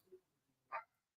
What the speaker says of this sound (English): Sorry about the dog. It's not my dog.